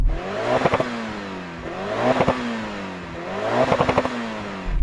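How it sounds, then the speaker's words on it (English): A Mitsubishi Lancer Evolution VI engine revs hard three times in a row, each rise climbing to a throaty peak and dropping back, loud and close. "Now, finally, we come to the Mitsubishi Evo 6. Go on, rev it up."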